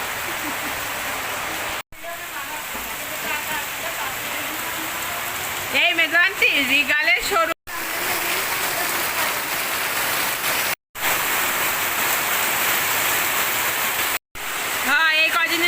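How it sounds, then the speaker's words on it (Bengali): Heavy evening rain pours down as a dense, continuous hiss close by, with a few brief dropouts and a voice speaking over it partway through. "এই কদিনের ভিতর শেষ বৃষ্টি আছে মুষলধারে"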